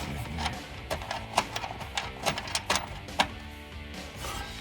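Socket wrench with a 1/2 inch deep-well socket doing the final tightening of a bracket bolt for textured black running boards on a 2019-2022 Silverado 1500, giving a run of close, quick ratcheting clicks over a low background hum.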